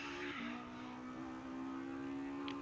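Tyres locking up under braking on a Formula car in a racing video game at Imola, a sustained squeal riding over the steady drone of the engine.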